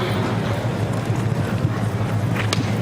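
Galloping horse hooves in a show jumping round at an outdoor agricultural show, a steady rapid clip-clop under a constant crowd and ambient hum, with a brief sharper knock near the end.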